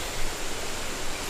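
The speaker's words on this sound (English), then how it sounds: "there's a beautiful creek which runs through here" A clean creek at Refreshing Springs in Malaysia flows in a steady, even rush of water, close and continuous, with no voices.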